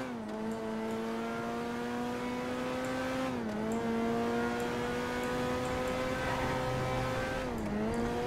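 A car engine in GTA 5 holds a steady, loud drone with harmonic hum, dipping briefly twice as it shifts and climbs again, sustained throughout with no talk.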